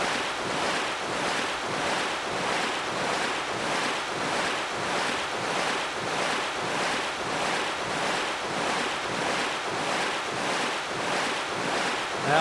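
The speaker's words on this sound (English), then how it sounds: "I know that the audio is way too loud on the ocean" Ocean waves in the video game Rune Factory: Tides of Destiny, a loud, steady roar of surf with wind, swelling in regular surges about once a second with no talk.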